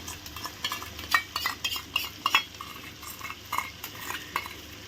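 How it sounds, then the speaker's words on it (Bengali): A spoon stirring whipped sour yogurt into a chicken curry, giving a run of wet scraping and light clinking strokes against the pot at a steady, uneven rhythm. "চামচ দিয়ে একটু কাটিয়ে দিলাম এখন ভালো করে নেড়ে দেবো"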